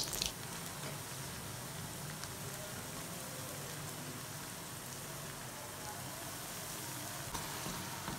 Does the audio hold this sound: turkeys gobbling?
no